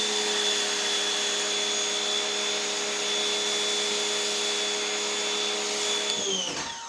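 A cheap foam cannon attached to a pressure washer sprays continuously, giving a loud, steady hiss with a whining motor tone. It cuts off abruptly just before the end.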